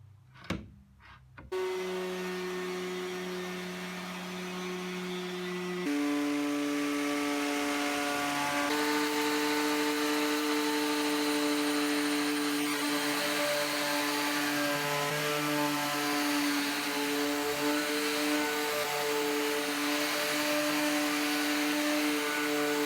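A router planes the top wooden strip of an old TV unit flush, its motor whining with steady harmonic tones that shift pitch as it spins up and the cutter bites, continuing as a loud sustained whirr with woody rasping.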